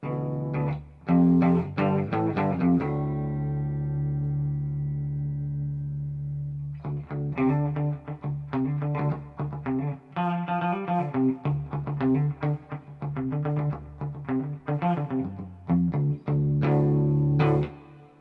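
Electric guitar played through a Quilter 101 Mini Reverb Head amp, with sustained chords and a long ringing decay, then busier picked phrases and chord stabs, clear and upfront with reverb, no voices.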